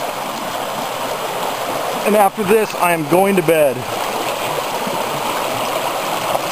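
A river flowing along the Lower Deschutes makes a steady, moderate wash of noise throughout, with someone talking briefly over it midway.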